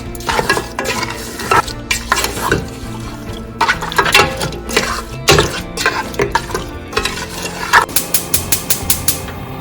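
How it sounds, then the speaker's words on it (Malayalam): A spoon or spatula repeatedly scrapes and knocks through beef mixed with spices, salt and whole fenugreek in a pan, in close, uneven strokes with a faint sizzle beneath. "ഇനി ഇതെല്ലാം കൂടെ നന്നായിട്ടൊന്ന് മിക്സ് ചെയ്യുക."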